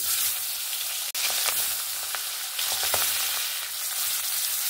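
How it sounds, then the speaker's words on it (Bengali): Fish heads fry in hot oil in a kadai, giving a loud, close, continuous sizzle with sharp spattering pops and no talking. "মাছের মাথাটা ভাজার সময় কিন্তু একটু সাবধানে ভাজতে হবে।"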